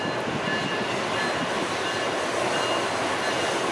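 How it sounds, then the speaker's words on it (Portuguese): Two CPTM PR22 locomotives shunting gravel wagons in a rail yard at Lapa, producing a steady, loud wash of rolling rail noise with faint wheel squeal and no break or pause. "com os vagões de Brita e as duas novas locomotivas da CPTM"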